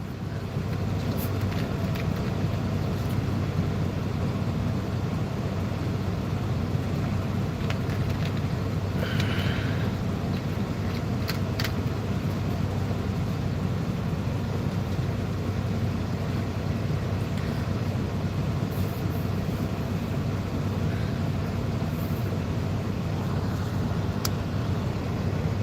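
A truck with a Packard engine drives along with a steady, low rumbling drone that holds evenly throughout, mixed with road and wind noise and occasional faint clicks.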